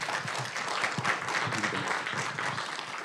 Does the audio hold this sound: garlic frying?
no